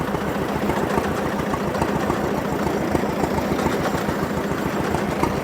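A T-25 tractor's engine running steadily, a throbbing low rumble with rapid regular knocking pulses, loud and close, continuing without a break and with no voices.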